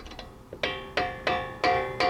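A socket ratchet clicks on a nut under a 2002 Acura MDX, about six sharp, ringing ratchet strokes in a quick, even rhythm, up close with no talk.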